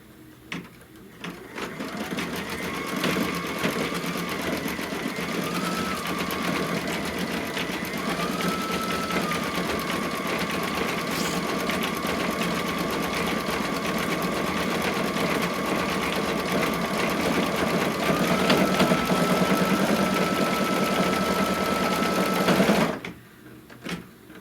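A Kimberbell embroidery sewing machine stitching a flower design on a quilt block, a steady fast mechanical whir and needle chatter running continuously for over twenty seconds before stopping abruptly.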